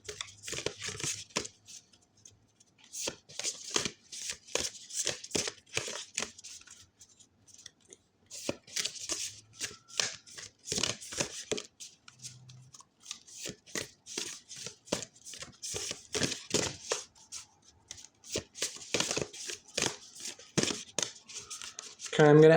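A tarot deck is shuffled by hand, close up, in repeated bursts of crisp riffling and sliding cards separated by short pauses.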